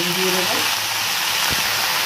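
Potato greens (alu shaak) frying in a pan produce a loud, steady hiss of sizzling oil that fills the whole moment without pause.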